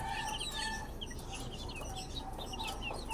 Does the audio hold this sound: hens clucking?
yes